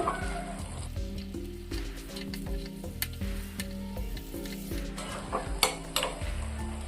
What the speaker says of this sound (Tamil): மீன் சேர்த்துட்டு நம்ம அடுப்பை வந்து குறைச்சி வச்சுக்கணும் குறைச்சி வச்சுட்டு இந்த மாதிரி திருப்பி திருப்பி விடணும்